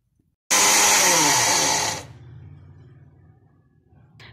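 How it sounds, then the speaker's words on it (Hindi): An electric grinder powders fennel seeds, a loud close high whirring burst of about a second and a half that cuts off sharply and then winds down into a fading hum, followed by a faint click. "अब सौंफ को अच्छी तरह से ग्राइंड कर लेंगे और फाइन पाउडर की शेप में बना लेंगे"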